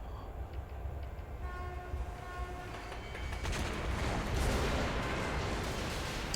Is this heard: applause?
no